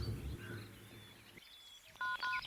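A telephone number is dialed on a phone in a Hindi-dubbed crime thriller film: after a short quiet gap, a few quick electronic keypad tones beep in succession near the end.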